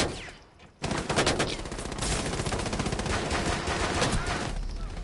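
Rapid automatic gunfire from a Rainbow Six Siege match, a dense burst of shots beginning abruptly after a brief lull and hammering on loudly to the end.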